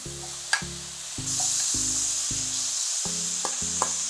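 Beans tip into a pan of sizzling mushrooms, with several hard clunks and knocks over a steady frying hiss that rises once they land.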